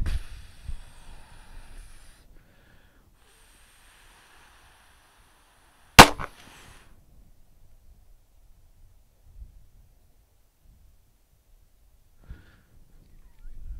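A single sharp handgun shot fired at a flinch target during low round count practice, loud and close, standing out in otherwise near-silent surroundings with faint handling noise before and after.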